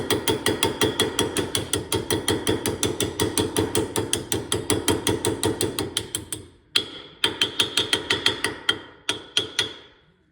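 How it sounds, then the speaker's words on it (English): Rapid, steady metallic hammer taps ringing close by as a metal sleeve is tapped into a 1958 Plymouth steering column, a long even run that pauses briefly, then resumes in shorter bursts of sharp strikes. "I'm gonna try to tap it in with the hammer."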